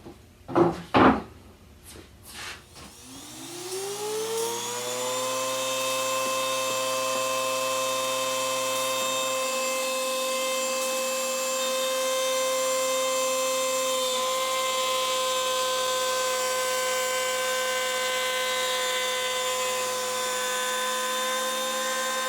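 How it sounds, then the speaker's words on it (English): An old, worn router spins up after a few knocks and handling sounds, then holds a loud, steady whine with strong tonal harmonics while cutting a wooden test piece for guitar binding, with the pitch shifting slightly partway through. "Router's seen better days. Sounds like it's about to explode."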